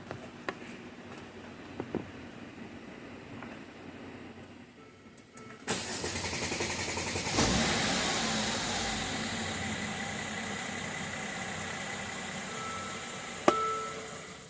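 A 2013 Mercedes ML engine, previously rattling and knocking on extended crank, fires up suddenly after quiet, with a loud cranking burst settling into a steady, close idle and a sharp click near the end.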